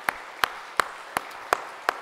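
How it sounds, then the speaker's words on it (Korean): A church congregation claps in unison during worship, six sharp, evenly spaced claps at a brisk steady beat, fairly quiet and alone with no talking. "박수하겠습니다."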